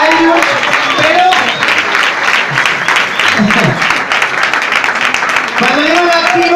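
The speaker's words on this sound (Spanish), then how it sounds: "un aplauso para ellos" An audience at a live show in a small A Coruña music venue bursts into sustained, dense clapping that fills the whole stretch, with a voice speaking over it at the start and again near the end.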